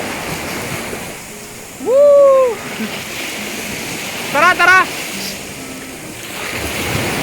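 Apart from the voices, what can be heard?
sea waves on Patar White Sand Beach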